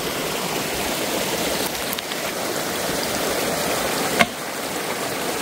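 A small farm stream flows steadily nearby, a constant close rush of water with one brief louder splash near the end.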